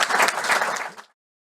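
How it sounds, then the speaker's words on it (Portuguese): Audience applause for panel speakers at an infrastructure-transition conference session, a dense burst of clapping that holds steady for about a second and then stops abruptly. "Uma salva de palmas para eles."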